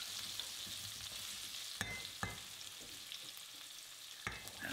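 Spices frying in a pan for a potato and pea curry, a soft steady sizzle with a few sharp scraping knocks of stirring, close and alone with no talk.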